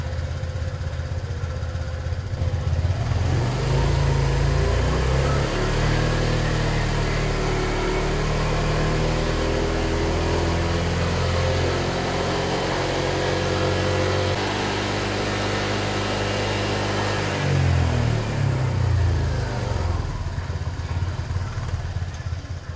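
A motorcycle engine idles, then revs up and holds high, sustained and loud, before dropping back to idle near the end, during an emissions test.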